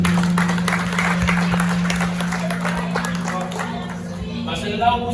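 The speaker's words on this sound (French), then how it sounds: "Acclame le Seigneur Jésus." A church congregation gives steady, sustained applause and cheering throughout, with a voice and crowd babble mixed in and a constant low hum beneath.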